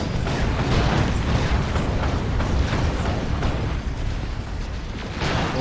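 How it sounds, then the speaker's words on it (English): Dense, continuous rumbling with repeated heavy thuds and bursts of autocannon fire and explosions in the video game Warhammer 40,000: Dawn of War II, loud throughout. "Auto cannon with some good hits."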